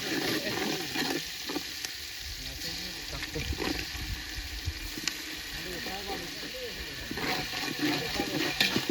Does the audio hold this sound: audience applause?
no